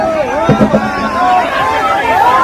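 A crowd at an election rally in Bihar makes a loud hubbub of mixed voices, with a few sharp bursts of shouting near the start.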